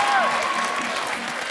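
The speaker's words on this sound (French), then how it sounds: "Vous pouvez vous applaudir." A short burst of dense, loud applause from a studio audience of middle-school students at a French radio broadcast, with a high whistling tone faintly over the clapping.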